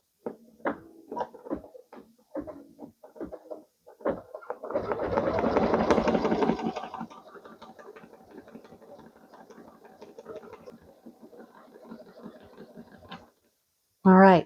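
An embroidery machine sewing a tack-down stitch on an applique quilt block: a burst of rapid mechanical stitching for a couple of seconds, then a quieter steady whir, with brief clicks and a few spoken words around it.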